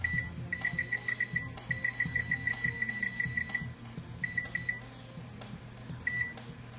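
A kitchen timer beeps in rapid repeated bursts while muffins bake, sharp electronic tones pulsing in short runs over a low steady hum, close and clear with no talk.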